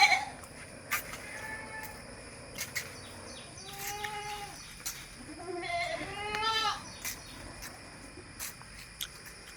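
Crossbreed goats and small goat kids bleat at a livestock sale, several wavering calls clustered midway over a steady background of crickets and faint birds, fairly close and without talk.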